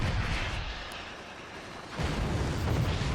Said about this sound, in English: nuke hits the wood build up by Geiger